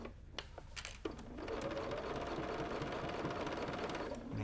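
A sewing machine with a stitch-in-the-ditch foot stitches binding onto a quilt, first a few scattered clicks and taps, then a steady, rapid, close mechanical chatter running on without talk.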